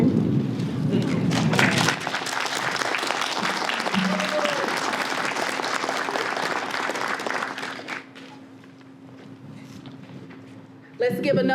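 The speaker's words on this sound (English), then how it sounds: "Let's give another round of applause for Allie, her poem entitled I Can't Breathe" Audience applause after a poem reading at a literary competition reception, a dense sustained clapping that fades toward the end, followed by a voice starting to speak.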